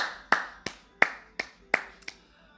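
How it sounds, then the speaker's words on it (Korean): Several sharp hand claps, about five or six, spaced roughly a third of a second apart, close and distinct against a quiet background with no talking, from a single person on a livestream. "박수"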